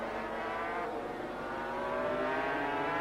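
Racing motorcycles at the 1982 Argentine Grand Prix scream past at full throttle, two machines running nose to tail in a slipstream battle, a loud continuous high-pitched engine wail with shifting harmonics.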